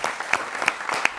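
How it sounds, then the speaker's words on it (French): A crowd at a youth games celebration applauds in a brief, loud flurry of many clapping hands lasting about a second, with no voices over it. "de vous applaudir"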